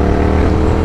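A Triumph Thruxton RS motorcycle engine drones steadily on a ride over greasy roads, a loud, close, continuous rumble.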